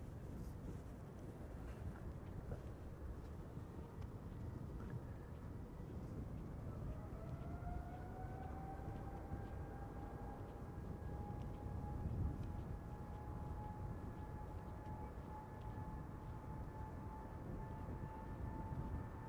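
A Boeing 777-200 departs Amsterdam Schiphol Airport, a broad, sustained engine roar with a whine that climbs in pitch partway through and then holds steady, loud and continuous throughout.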